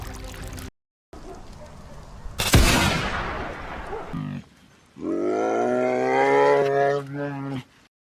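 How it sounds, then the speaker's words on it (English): A single rifle shot at a black bear over a bait pile of potatoes in the cold Alberta foothills: one loud, close crack with a rolling tail, followed a couple of seconds later by a long, deep, groaning animal call. "a single rifle crack splits the silence"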